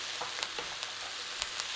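Mushrooms stir-frying in a pan give a steady close sizzle, broken by a few soft scrapes and taps of stirring, with no talk.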